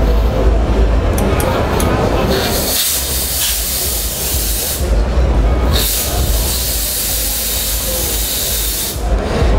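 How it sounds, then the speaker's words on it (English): A Chauvet Geyser RGB high-velocity smoke machine sprays loud, steady bursts of hissing smoke, with short pauses between blasts, on a busy trade-fair floor. "It's essentially a high velocity smoke machine with RGB LEDs at the base of the smoke"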